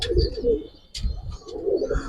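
Giribaz pankhi pigeons coo in a couple of low, throaty bursts with brief pauses between them, a few soft high chirps scattered over the top, fairly close and heard without any talking.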